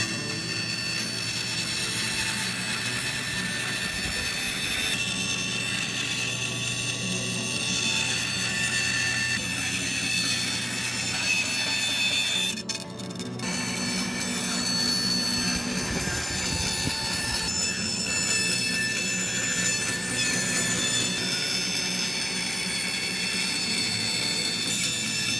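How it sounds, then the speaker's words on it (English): Bandsaw cutting red cedar to shape wooden paddles, a continuous loud mechanical hum and whine with steady cutting noise that dips briefly midway, no talk. "Matthias is going to gently cut the red cedar on the bandsaw."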